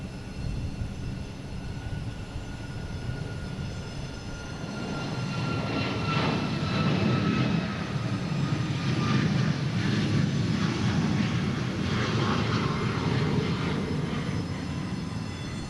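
A Boeing 737 MAX 8 airliner on flight 960 passes near Boston Logan International Airport, its jet roar swelling from a steady rumble into a loud, broad engine blast that holds for several seconds, with no talking.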